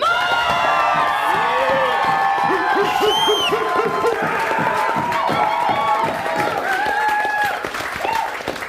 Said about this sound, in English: A round of applause for the champions who sacrificed so much.